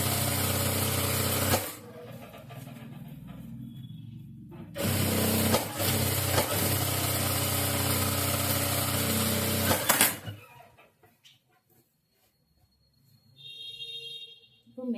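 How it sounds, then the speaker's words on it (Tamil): Sewing machine stitching the lining of a saree blouse, running in two long loud bursts of steady motor whir separated by a pause, then falling to quiet handling sounds near the end. "இப்போ லைனிங் மேலே ஒரு தையல்."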